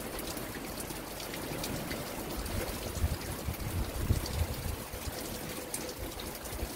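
Steady rain falls outside a sculptor's studio on a plaster-casting day, a dense even hiss of droplets throughout with no voices.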